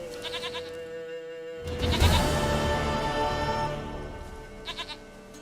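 A goat in Witcher 3 bleats under a steady game music bed, giving a short bleat at the start, a longer wavering bleat in the middle and another short one near the end.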